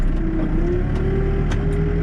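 A backhoe engine running steadily while backfilling: a loud, close, continuous low diesel rumble with a slight rising whine, a few faint clanks on top.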